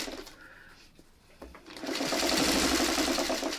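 A sewing machine stitches steadily around the seam of a quilt block, starting softly and then running loud and continuous for the second half, with no talk.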